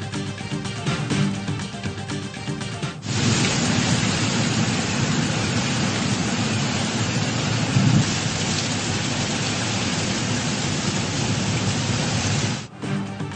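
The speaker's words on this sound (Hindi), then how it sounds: "पेशावर के मुख्तलिफ इलाकों में मूसलाधार बारिश, गर्मी का जोर टूट गया।" Torrential rain driven by strong winds in Peshawar pours as a dense, steady roar, loud and close throughout, with no voices over it.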